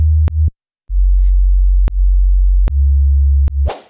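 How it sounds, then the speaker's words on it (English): Clean sine-like synth sub bass layer for an electronic drop, deep and loud, held notes chopped by a short silence and several sharp clicks at note changes, ending in a brief noisy burst. "Then finally, my sub layer."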